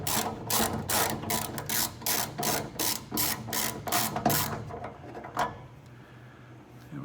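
A ratchet wrench loosens the top hood hinge bolt on a Ford Mustang Fox Body, giving a steady run of loud, close clicking bursts for about four seconds, then a short pause and one last click.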